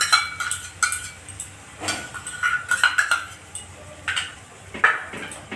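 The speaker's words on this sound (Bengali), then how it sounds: "ফ্যাটানো টক দইটা দিয়ে ভালো করে আমি মিশিয়ে নেব" A metal spoon clinks and scrapes against a pan while whipped sour yogurt is stirred into a spice masala, irregular close taps and scrapes with short pauses between them.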